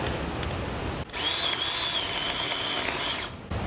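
A Ryobi battery-powered chainsaw with an overheated battery, its electric motor running in a close, steady high whine for a couple of seconds between brief cut-outs.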